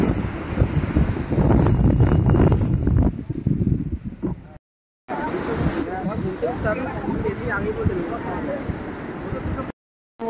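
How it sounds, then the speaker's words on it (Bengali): Cold wind blows hard across a beach at Puri, buffeting the microphone in a steady roar over distant surf, with voices talking faintly underneath. "খুব ঠান্ডা হাওয়াও দিচ্ছে"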